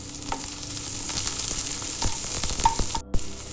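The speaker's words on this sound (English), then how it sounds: "We've added 1 chopped onion, and we need to mix it with the mustard." A chopped onion with mustard seeds frying in hot oil, giving a steady, close sizzle with faint pops. Toward the end a few scraping stirs of a utensil rise above the sizzle, and no one speaks.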